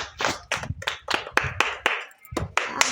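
A small group clapping for a competition winner, about a dozen sharp, uneven claps close by with brief gaps between them.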